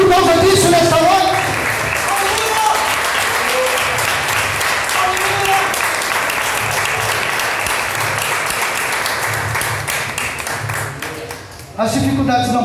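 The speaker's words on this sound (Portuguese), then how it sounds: "Você pode aplaudir a Ele por causa disso nessa noite?" A church congregation applauds loudly and steadily for several seconds, a dense wash of clapping filling the room, with a voice rising over it near the end.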